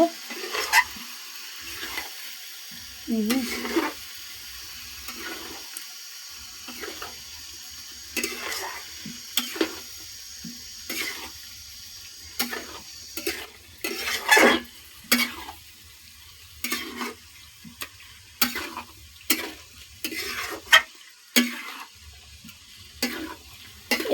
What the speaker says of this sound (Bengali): দেখুন এবার আমি পুরো উপকরণটা ঢেলে দিয়েছি, আস্তে আস্তে করে নাড়াচাড়া করব।